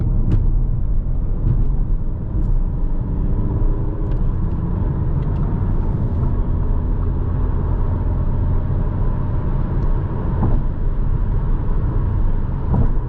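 Audi A3 Sportback 2020 speeding up in sport mode while driving at night, heard as a steady, loud interior road rumble and engine drone that builds gradually, with no speech over it.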